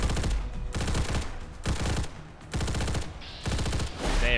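Bursts of automatic fire from a V52 assault rifle in Fallout 4, about five loud sustained volleys each lasting roughly half a second with short gaps between, no talking.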